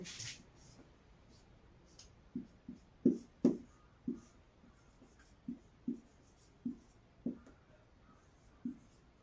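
Handwriting equations during a physics lesson on Coulomb's law, a series of soft, close strokes and taps in an uneven rhythm against a quiet room.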